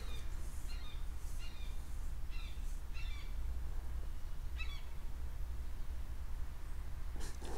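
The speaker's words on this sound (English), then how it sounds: "Some bird outside." A bird calls outside in a series of short, bright chirping bursts repeated every second or so, moderately distant over a steady low background hum, with no talking.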